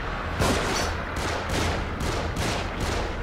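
Rapid gunfire in the horror video game The Evil Within, a dense burst of repeated shots roughly every half second, loud and close, filling the whole stretch without pause.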